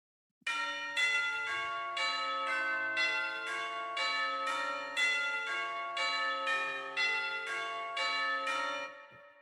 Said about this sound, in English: The first one is what I was talking about with the chimes.